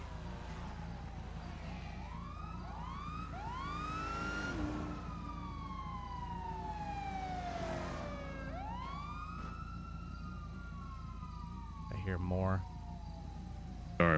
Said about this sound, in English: I hear a bunch of cop sirens.